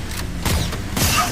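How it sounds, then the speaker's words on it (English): A weapon reloads in Killing Floor 2, Santa's Workshop map, with a few close mechanical clacks and metallic clicks over a steady game background, short and fairly loud. "Reloading."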